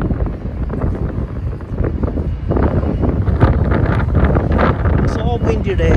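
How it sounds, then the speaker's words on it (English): Strong winter wind in Melbourne buffets the microphone with a loud, low rumbling roar that surges and dips continuously from start to finish. "So windy day, so a bit shaking my camera."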